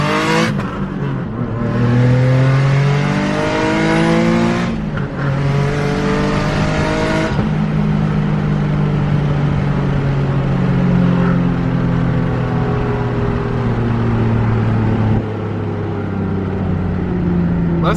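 A car with traction control off accelerates hard from a downshift and climbs through the gears. Loud, close engine roar rises in pitch, drops briefly at each shift, then keeps pulling for a long sustained run.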